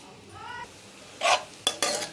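Whole spices, a dried red chilli, a torn bay leaf and cumin seeds, sizzle in hot oil as a spoon stirs them, giving a faint hiss followed by a few sharp scrapes and clanks against the pan.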